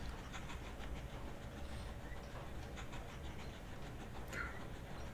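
A steady rumble of trains rolling along in the railway simulation game Mashinky, with faint rhythmic clatter and a short high squeal near the end, constant and moderately quiet with no talk.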